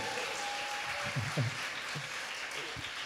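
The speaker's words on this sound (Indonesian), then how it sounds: "Tepuk tangan dulu dong buat Adra dong" An audience claps steadily for the curator Adra at a music event, a soft, moderately distant applause with a few voices briefly heard beneath it.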